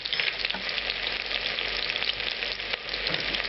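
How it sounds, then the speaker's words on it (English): Cumin seeds fry in hot oil for a Spanish bravas sauce, giving a steady, close, dense sizzle with faint crackles throughout and no voices. "You put cumin seeds in the oil."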